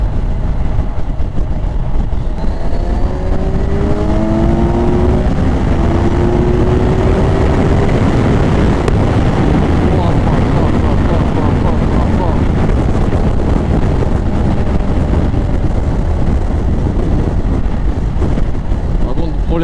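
A Kawasaki Ninja 1000 SX four-cylinder engine pulls hard, its rising tone climbing for several seconds under a loud, constant roar of wind buffeting the rider.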